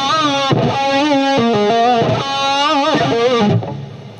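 An electric guitar played through distortion and effects, its string bent up a whole step and partly released, producing sliding, wavering pitches. The sustained tone is close, loud and unbroken, then fades at the end, with no voice.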